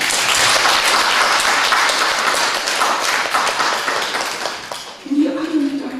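Dense applause from a church congregation during a Sunday service, steady for several seconds before tapering off as a voice begins speaking near the end.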